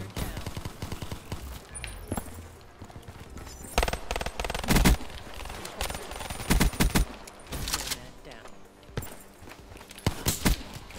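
Gunfire from a gun-game match on the Redwood map in a video game, with dense rapid bursts and scattered single shots. It is loud and continuous, punctuated by sharp peaks, with occasional footsteps in the mix.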